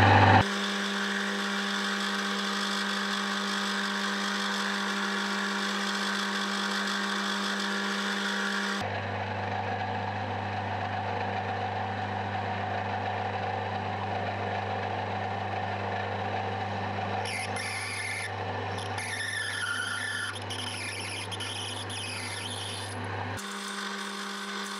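Electric drill boring a 6 mm through-hole after a center punch mark while making a homemade die holder, a steady close motor whine with a deeper load change partway through and a higher grinding stretch near the end, no talk.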